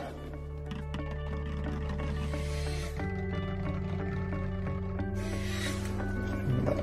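An immersion blender whirs steadily through scented soap batter, a continuous motorized hum with a few shifts in pitch as it moves, close and loud, no talking.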